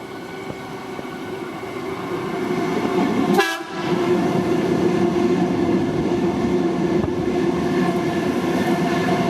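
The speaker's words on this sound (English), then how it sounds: "We have got a train coming." A train runs past the northern portal of Boronia No.1 Railway Tunnel at Cowan in Sydney's Hornsby Shire, a steady rumbling roar with a brief horn-like burst early on, sustained and fairly close, no voices.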